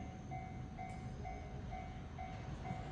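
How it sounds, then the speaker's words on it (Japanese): Steady low rumble of a delayed Joban Line train in motion, with a faint repeating two-tone chime or signal pulsing at regular intervals over the noise. "現在30分ほど遅れている電車です。"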